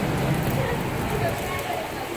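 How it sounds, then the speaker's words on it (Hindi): Rain falling steadily on a rooftop in Karachi at the onset of the season's first rain, a dense, even patter that stays close and continuous throughout. "छत पे ये है बारिश का मौसम, ये बारिश की बूंदे।"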